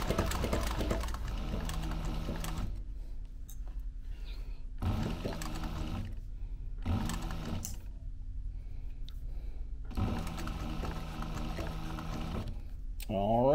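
A sewing machine back stitching a duffel bag runs in several bursts of steady mechanical whirring, separated by brief pauses with faint handling sounds; it is fairly close and loud, and no one talks over it.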